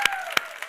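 Applause from an audience at a Nobel literature lecture, a short burst of clapping with a few sharp peaks, moderately loud and alone with no talk over it.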